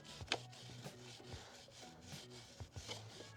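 A motorbike chain being scrubbed clean of built-up gunk, steady scraping and rubbing strokes at close range with a few sharper brush scuffs, and no talking.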